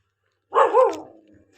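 A single dog gives one short, close bark that bends into a brief howl-like whine, then trails off into quiet.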